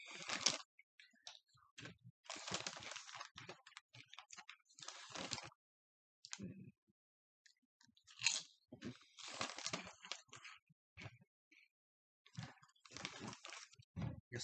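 Humpty Dumpty BBQ potato chips crunch loudly and close up in bursts of crisp chewing, separated by short silent pauses, with no talking.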